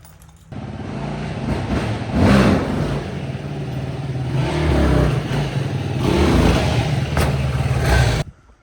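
A motorcycle pulls a quick wheelie after being unloaded, its engine revving hard and holding a loud, steady roar for several seconds with surges in throttle, close by and without talk.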